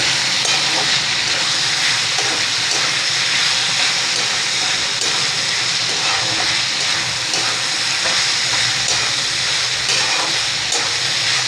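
Drumstick pods and tomato frying in a pan on high heat, a steady loud sizzle and hiss with faint scraping from stirring running throughout.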